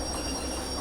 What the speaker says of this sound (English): I do hear some brakes